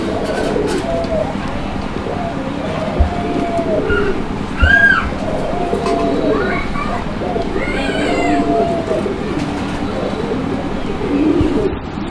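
Pigeons of the Raj Golla and Madrazi Golla breeds coo in soft, repeated throaty calls close by, overlapping loosely through steady background noise, with someone talking over them.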